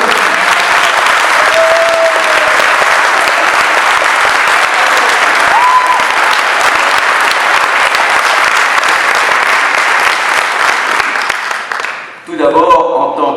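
Loud, sustained applause from a crowd at a public election meeting in Coutras, clapping for mayor Jérôme Cosnard, dense and steady for about twelve seconds before cutting off abruptly into a brief voice.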